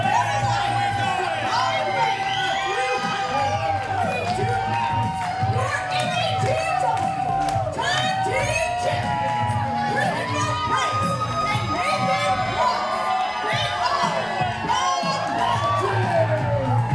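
A packed standing-room wrestling crowd cheers, whoops and shouts continuously, loud and dense, with many overlapping high voices including children.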